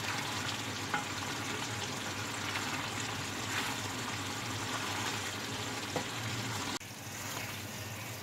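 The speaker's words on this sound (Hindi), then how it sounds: "अब हम आंच तेज़ करके इसे पानी खुश्क कर लेंगे।" Sliced torai and onion with green chillies cook in oil over high heat as the water dries out, giving a soft, steady sizzle and frying hiss close by.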